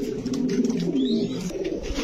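Red checker racer pigeons coo up close, giving low, throaty rolling calls that run on without a break for a couple of seconds.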